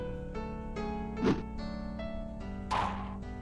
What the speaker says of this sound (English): A solid thwack rang out through Hinamizawa as if the job was being done by a lumberjack